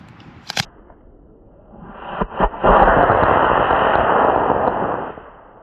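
A 3D printed model rocket lifts off outdoors in Maine: a sharp click, then a loud roaring whoosh of motor thrust for about three seconds that fades as it climbs.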